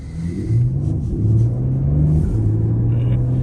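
A 2021 Porsche Panamera 4S E-Hybrid pulls away in normal drive mode, its engine note rising and stepping through gears as a steady, loud rumble heard from inside the cabin.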